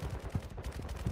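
Dueling pistols fire in a shooter video game. The shots come as muffled, low, booming thuds, a couple of them stronger than the rest, with no talking.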